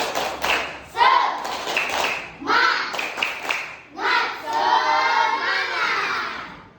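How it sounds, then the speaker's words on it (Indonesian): A group of children in a classroom does a rhythmic spirit-clapping routine, with sharp claps in short patterned bursts mixed with loud chanting voices, close and lively. "Kita tepuk semangat."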